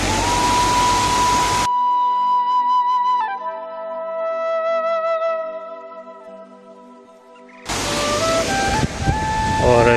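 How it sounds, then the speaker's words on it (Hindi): A waterfall near Tiffin Top on the Tanakpur–Champawat highway gives a loud, dense rush of falling water at the start and again at the end. A quieter tonal, music-like passage fills the middle. "टिफिन टॉप के पास में बना हुआ है ये झरना"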